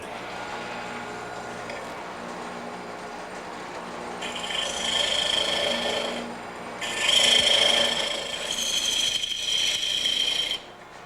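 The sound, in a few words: sanding wood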